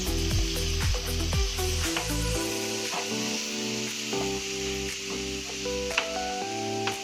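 Sugar mixture stirred in a pan over a medium gas flame, a steady sizzle with soft scraping strokes running throughout, with no talk.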